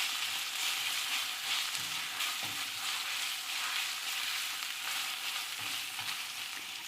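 Food sizzles steadily in a pan over medium heat while cooking chicken biryani, a dense, even frying hiss with a few soft stirring knocks, close and continuous with no talk.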